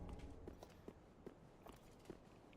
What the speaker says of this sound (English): The footsteps are quite unnerving, I think.